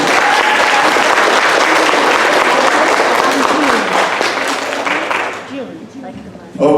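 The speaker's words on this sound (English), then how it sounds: "Well, I think that deserves another applause." An outdoor audience at an elementary school mural unveiling in Delano applauds loudly and steadily for several seconds, the clapping thinning and fading out near the end.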